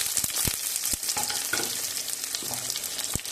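Chopped onion hits hot oil with cardamom, cinnamon, cloves and mace for a cauliflower biryani, hissing loudly up close. Sharp knocks of a spoon against the pan punctuate the bright sizzle.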